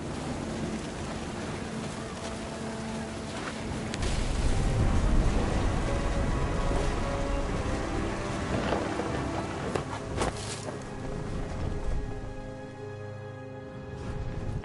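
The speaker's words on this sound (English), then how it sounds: "The thunder sounded much too close and full of angry power." Rain pours steadily during a thunderstorm in the video game What Remains of Edith Finch, with wind and deep rolling thunder swelling and fading, under a constant wash of loud rainfall.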